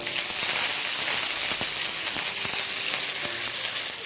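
Curry leaves still wet with water hit hot oil and sizzle loudly and steadily, a dense crackling hiss with scattered pops, close and uninterrupted.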